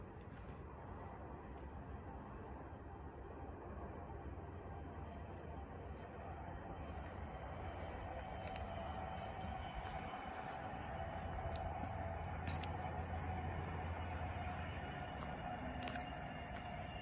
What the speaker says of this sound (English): Whew, high speed train.